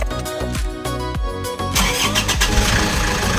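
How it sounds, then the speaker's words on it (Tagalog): An Isuzu Traviz engine cranks briefly and catches, then settles into a steady, loud idle close by, with no voices. "Ngayon subukan natin i-start kung mawawala na tong check engine."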